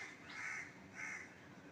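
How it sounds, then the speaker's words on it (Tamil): A crow caws twice at a monkey outdoors, two drawn-out harsh calls at moderate distance over steady background noise. "அதனால தான் காக்கா வந்து இந்த அளவு கத்துது"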